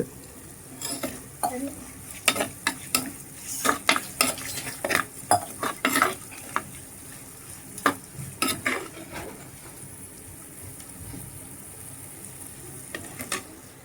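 Dried anchovies (nethili karuvadu) fry with masala and rock salt in a pan. A utensil stirs and scrapes in irregular bursts of clinks and scuffs over a faint sizzle, close up.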